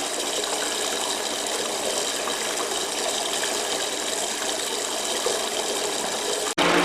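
Gold dredge pumping water through a sluice: a steady, loud, continuous rush and gush of water with an engine beneath, close, cut by a brief dip near the end, no talk.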